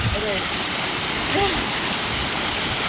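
A waterfall and flowing stream at Itacaré, Bahia, give a dense, steady rush of water filling the whole clip, with faint voices briefly audible beneath it.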